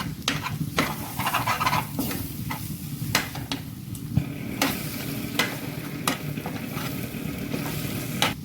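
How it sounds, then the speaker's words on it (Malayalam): A spatula stirs and scrapes soybean roast mixed with egg in a hot pan: a continuous low sizzle under sharp, irregular clacks and scrapes, close by. "നമുക്ക് നല്ല ഭംഗിയായിട്ട് ഇളക്കിയെടുക്കാം"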